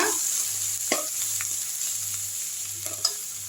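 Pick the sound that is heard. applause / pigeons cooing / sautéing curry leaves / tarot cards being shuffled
sautéing curry leaves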